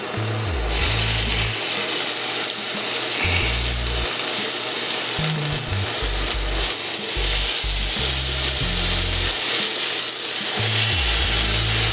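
Four bacon strips frying on a Steelmadeusa griddle make a loud, continuous, close crackling sizzle with a dense hiss that holds steady throughout, while low rumbling background thumps come and go underneath.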